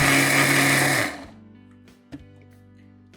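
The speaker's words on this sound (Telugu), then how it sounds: "ఇప్పుడు దీన్ని ఒకసారి మిక్సీ పట్టి కొంచెం వాటర్ పోసి మెత్తగా దోశ పిండి చేసేసుకోవాలి" A mixer grinder whirs loudly while grinding soaked lentils into dosa batter, running for about a second before cutting off and winding down, followed by a couple of faint clicks.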